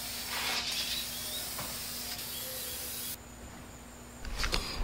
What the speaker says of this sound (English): So I ended up painting an entire can.